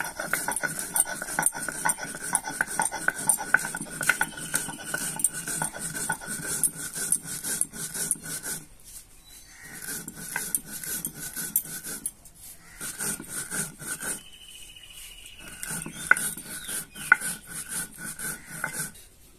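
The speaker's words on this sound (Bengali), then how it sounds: "ওইটা আমি একসঙ্গে গুঁড়ো করে নেব।" Roasted cumin seeds and black peppercorns ground together in a home kitchen, a steady gritty rasping and rubbing that runs close and fairly loud, with brief pauses between bursts.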